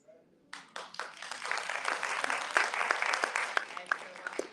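Audience applause at a Baltimore civil rights commemoration event, a full crowd clapping steadily and loudly after a brief quiet start, with scattered sharper claps standing out.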